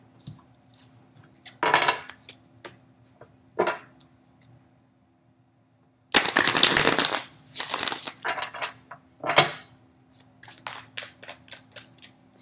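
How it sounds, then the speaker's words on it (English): Tarot cards being shuffled and handled in several separate rustling bursts, one longer riffle in the middle and shorter flicks around it, close and fairly quiet. "Let me pull one card for your money."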